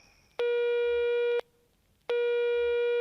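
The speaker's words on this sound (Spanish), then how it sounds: "el celular volvió a timbrar" A mobile phone gives two long, steady electronic tones separated by a short gap, loud and clear with nothing else audible.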